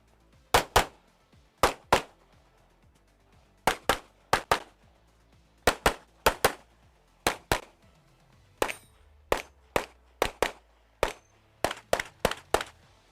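Handgun shots ring out on stage 11 of the European Handgun Championships, a shooting competition, in sharp loud cracks, mostly in quick pairs and short bursts, spread across the string with brief pauses between groups.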